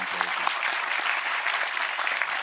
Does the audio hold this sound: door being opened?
no